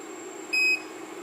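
A gas leak detector sounds one short, bright electronic beep, about a quarter second long and clear over a steady background hum.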